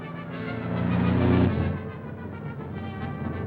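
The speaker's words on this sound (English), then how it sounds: "There's a car following us." A 1930s motor car following close behind on a road, its engine a steady rumble that swells to a peak mid-clip and then settles into a lower, continuous drone, with no voices.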